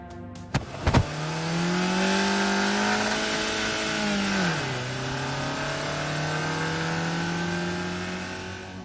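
Car engine roaring in a video game, a sustained loud revving tone that holds steady then dips in pitch and settles, preceded by a couple of sharp thumps.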